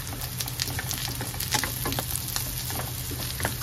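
Onions sautéing in a dry pan without oil for string beans adobo, a steady close sizzle and crackle with scattered pops and the faint scrape of stirring, no voices.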